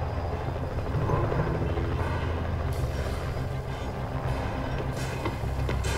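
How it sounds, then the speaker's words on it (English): A surveillance drone in the Rainbow Six Siege video game drives along, a continuous loud whirring, rumbling motor hum that holds steady throughout. "my drone spawned on the second floor"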